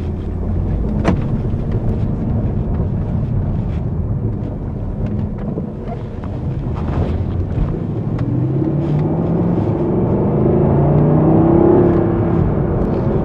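A Jaguar XK's engine in sport mode rumbles from inside the cabin while the car drives, a deep steady growl that swells louder toward the end with wind and road noise.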